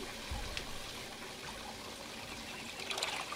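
Water trickles steadily into a grow tub of a home aquaponics system, a soft continuous splashing flow with faint background hiss and no talk.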